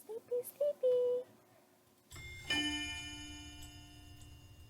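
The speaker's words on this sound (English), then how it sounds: "that chime is so nostalgic" Chime from the video game Cinderella Phenomenon, a bright ringing tone that starts midway and sustains, layered with shimmering high harmonics and decaying slowly after a few short tones and a pause.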